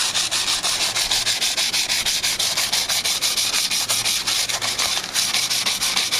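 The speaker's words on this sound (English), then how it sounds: "we're going to take some sandpaper right back and smooth this out a little bit" Hand sanding with coarse 80-grit sandpaper on an old, inexpensive drill press part, a steady loud back-and-forth rasping scrub with quick regular strokes throughout, close up and alone.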